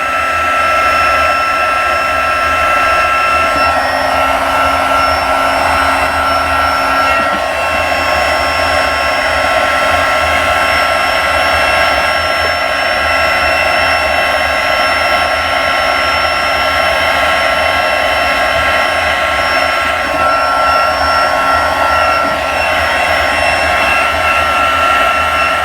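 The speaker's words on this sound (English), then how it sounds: "So let's bring our heat tool back over, and it's already warm, so I don't think we have to heat it up." An embossing heat tool blows steadily for the whole stretch while heat-setting embossing powder on a handmade Christmas card, a loud, even whooshing hum like a hair dryer with no pauses and no talk.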